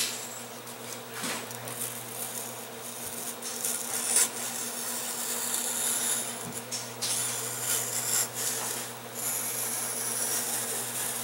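A blade slices along foam board making bevel cuts, giving soft continuous scraping and rubbing strokes over a steady background hum, fairly faint and close.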